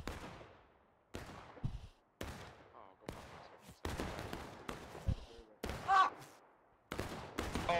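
Musket volleys crack out across a Civil War battlefield in War of Rights at Piper Farm, sharp shots in repeated bursts roughly every second, some near and loud, others overlapping into ragged fusillades with faint talk underneath.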